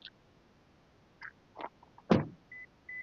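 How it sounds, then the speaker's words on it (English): A car door closing with one muffled, fairly loud thud at mid-clip, set among a few faint brief clicks and short tonal beeps in a quiet car interior, with no talk. "you'll hear the door close"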